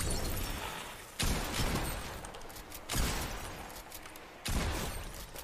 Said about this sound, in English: Whoa! The gun sounds so cool!